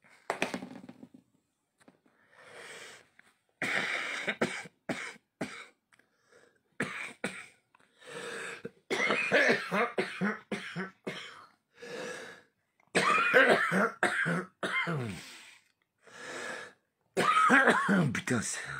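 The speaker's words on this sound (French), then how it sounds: "certaines cigarettes me font tousser" A man coughs repeatedly from cigarette smoke in harsh, rasping fits and throat clearing, close and loud, the bursts separated by pauses and growing heavier toward the end.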